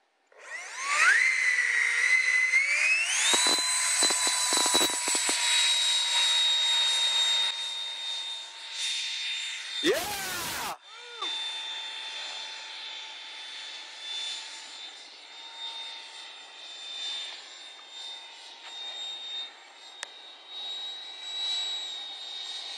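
A Hobbyking ViperJet RC model jet takes off, its turbine spooling up to a loud, high whine that stays steady and slowly fades as the aircraft climbs away, with a brief louder burst midway.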